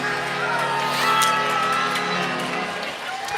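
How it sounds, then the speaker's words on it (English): A hockey crowd at a varsity home opener cheers loudly after a hat trick, a sustained roar with whoops and shouts that swells and holds, while a commentator talks over it. "And the crowd goes wild."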